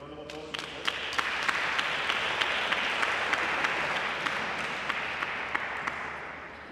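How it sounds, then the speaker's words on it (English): An audience at a women in sports awards ceremony claps steadily, with distinct sharp claps standing out over the dense applause, which holds at an even level for several seconds. "let's give a round of applause"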